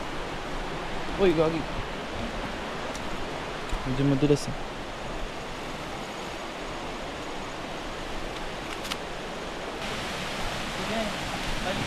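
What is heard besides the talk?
river water flowing during a river crossing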